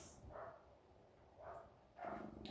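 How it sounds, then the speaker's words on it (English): A dachshund barks three times at a distance, short sharp yaps spaced out over a low background hum. "now we've got dog barking through this"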